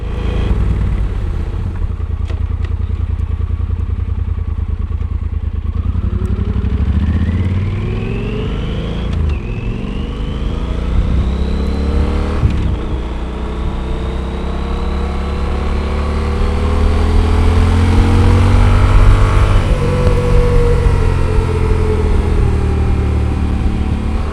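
Yamaha Super Tenere motorcycle cruising on paved mountain highway, steady engine drone with rising and falling pitch through gear changes and throttle, plus wind rush, close and loud throughout.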